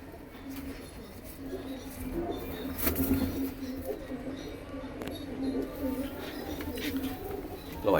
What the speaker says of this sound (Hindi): ये लाल चीना कबूतर है